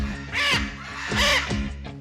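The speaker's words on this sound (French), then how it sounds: "c'est très bruyant parce que le perroquet est très bruyant de nature. Il crie beaucoup" A parrot screams in alarm and stress, two loud harsh calls repeating close by, each a rasping shriek with strong overtones.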